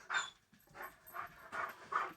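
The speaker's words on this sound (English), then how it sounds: "This dog getting upset for no reason." A distressed dog pants and whimpers close by in a quiet room, with about five rhythmic breathy bursts in quick succession and no talking.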